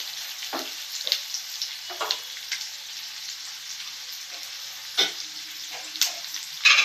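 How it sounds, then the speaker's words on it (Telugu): Chopped onion and green chillies fry in oil in a pan, a light crackling sizzle punctuated by repeated spatula scrapes and taps at irregular intervals, close and fairly clear. "పెద్ద సైజు ఆనియన్ 1, 2 పచ్చిమిర్చి, బాగా రెడ్ కలర్ వచ్చే వరకు ఫ్రై చేసుకోవాలి."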